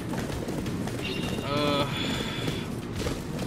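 Rhythmic hoofbeats of a galloping horse in the video game Attack on Titan: Wings of Freedom, with a brief whinny midway, under steady game music and background noise.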